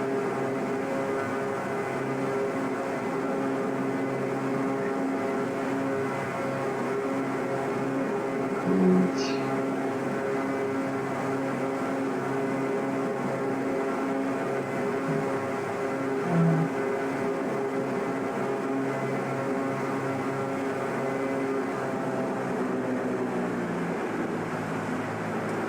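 A steady, loud simulated airplane engine drones through a takeoff roll in the X-Plane 11 flight simulator, departing Modesto, a dense broadband roar that holds constant for the whole stretch with a couple of faint brief chirps.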